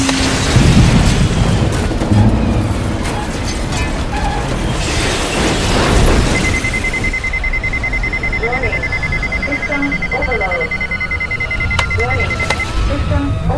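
A radio-drama spaceship crash effect roars with dense, loud rumbling and booming, then gives way to steady electronic alarm tones and buzzing mechanical noise that persist to the end.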